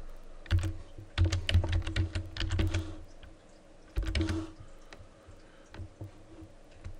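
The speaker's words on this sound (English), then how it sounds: "type in your username" Computer keyboard typing at a login screen: bursts of quick, close key clicks in two clusters with a short pause between, loud and clear with no talking.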